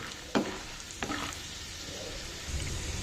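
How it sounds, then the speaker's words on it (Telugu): Soft, continuous sizzle of a peanut-and-seed tempering frying in oil for tamarind rice (pulihora), with a couple of sharp scraping clinks from a utensil; no voices. "పోపు వేగిపోయింది కదండి"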